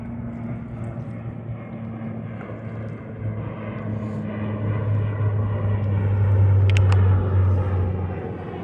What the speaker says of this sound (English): And a plane taking off.